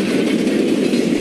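Steady rumble and rolling clatter of a Leipzig S-Bahn S11 train in motion in the train simulator Pro Train Perfect 2, continuous and fairly loud with no talk.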